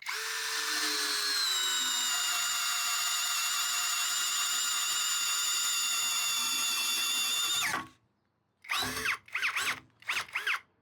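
A Hanabi LJ2022 cordless drill with a hybrid chuck runs at speed 1, boring steadily through wood with a loud, sustained high whine for about eight seconds, then cuts out, followed by a few short bursts.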